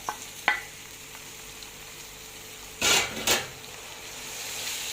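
Freekeh is sautéed with onion in a pan. A soft, steady sizzle runs underneath, with a few sharp clinks of utensil on pan and two louder scraping stirs near the end.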